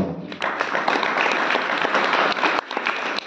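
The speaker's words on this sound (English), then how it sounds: "Give a big clap to the students now." Brief burst of applause from an audience clapping for students at a Manchester, UK lecture on the 72 melakarta ragas, sharp individual claps forming a short, moderately loud round.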